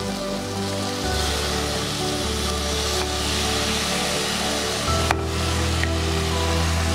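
Washed mutton pieces added to softened onions and tomatoes in a hot pan, giving a loud, dense, continuous sizzle with a low hum of the stove beneath.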